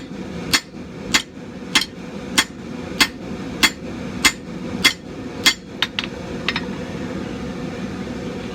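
Straight peen hammer, three pounds, struck on hot steel while forging by hand: nine to ten sharp ringing blows in a steady rhythm, close and loud, followed by a few lighter taps as the striking trails off.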